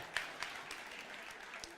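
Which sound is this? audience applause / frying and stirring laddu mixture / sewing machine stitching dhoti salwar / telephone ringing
audience applause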